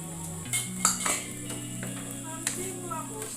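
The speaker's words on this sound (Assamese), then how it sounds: "দি পিনে ভালকৈ লৰাই ল'ম ভাজিকণ।" Raw banana pieces frying in a wok, stirred with a spatula for chicken and raw banana boil, giving a few metallic scrapes and clinks over a low hum, fairly faint.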